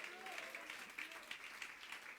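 A church congregation applauds faintly and continuously for a couple of seconds, a soft, distant patter of clapping.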